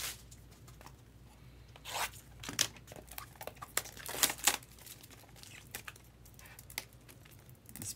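Stiff plastic packaging on a baseball card box crinkles and tears in bursts of rustling, some sharp rips and crackles close by, alone without talk.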